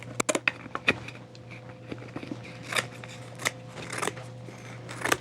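Scissors cut through material during hat making, sizing to a head on a block. The crisp, close snips come in irregular bursts, some quick and clustered, others spaced apart, with no talking.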